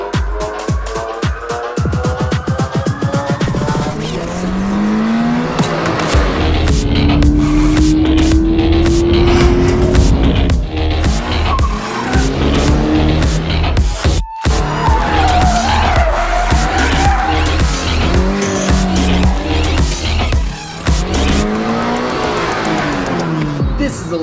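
Subaru BRZ tS tires squeal and skid repeatedly while driven hard, long screeching slides layered over the revving engine, with a voice talking intermittently.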